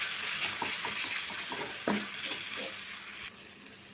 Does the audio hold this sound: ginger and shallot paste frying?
yes